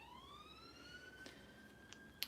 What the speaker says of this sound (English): you can hear ambulances or something going past my house again